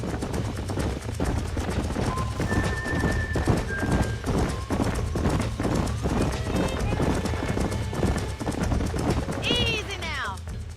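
Horses trot in the Red Dead Redemption video game, a steady, even clip-clop rhythm through the whole stretch, with a neigh near the end. Speech and music sit under the hoofbeats.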